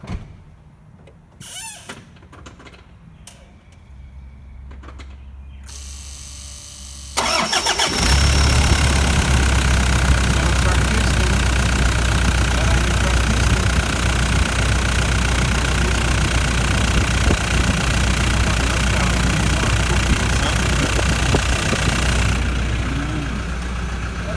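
A car with a suspected cracked piston cranks quietly, then catches and settles into a loud, steady, rough idle that carries on without pause until it fades slightly at the end.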